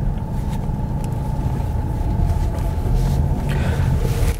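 A 2017 Renault Koleos SUV heads downhill off-road, its steady engine and tyre rumble droning low and continuous throughout with no voices.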